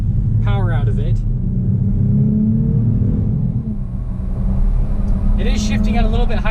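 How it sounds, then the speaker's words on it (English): A 2019 Dodge Challenger GT with a V6 and all-wheel drive accelerating hard in sport mode, a loud steady engine rumble rising in pitch through the gears, heard from inside the car with a voice talking over it. "test the acceleration with this all-wheel drive system and with the V6"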